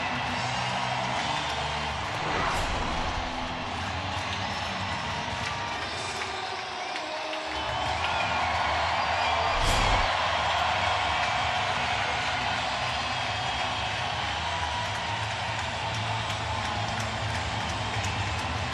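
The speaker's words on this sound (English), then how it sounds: "Listen to this crowd." Home ballpark crowd at a Twins vs Astros playoff baseball game roaring after a two-out run-scoring hit, a loud, sustained wall of cheering and shouting that swells and holds throughout.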